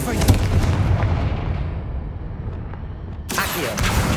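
A Confringo spell explodes during a boss fight with a giant armored knight in Hogwarts Legacy: a deep, loud blast whose rumble fades over a few seconds before a sharp new burst cuts in near the end.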